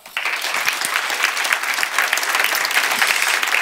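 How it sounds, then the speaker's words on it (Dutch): An audience applauds for Dick Swaab at a Dutch talk about the brain, art and culture: dense, steady clapping from many hands that starts abruptly and continues evenly throughout, with no voices over it. "Ik geef u een hartelijk applaus"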